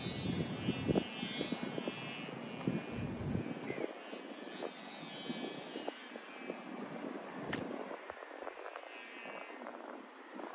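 A buzzing engine-powered kite drones overhead like a small drone at a seaside park walk in Phuket, Thailand, a steady distant motor hum mixed with wind and crowd noise, with people talking nearby.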